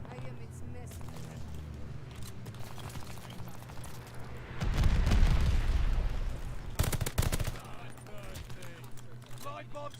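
Gunfire rattles across a multiplayer match of the Call of Duty Vanguard video game, with bursts of shots and a heavy rumbling blast mid-way, all under a player's ongoing talk.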